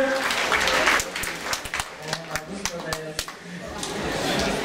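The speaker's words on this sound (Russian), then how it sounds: "Аплодисменты другу нашего участника." An audience applauds at a school event, a short burst of clapping mixed with speech and crowd noise, moderately loud and uneven.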